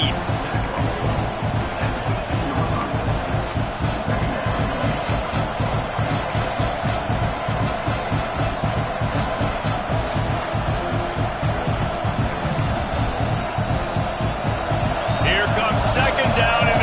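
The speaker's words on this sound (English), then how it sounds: "this crowd is turning it up a notch" A college football stadium crowd at a Nebraska vs Florida game roars and cheers in a dense, continuous wall of noise, loud throughout, with a commentator speaking over it.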